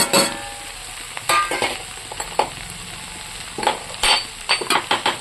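Vegetables frying with spices in a home kitchen pan, a steady sizzle broken by repeated scraping and stirring strokes and occasional utensil clinks against the pan, close and fairly loud.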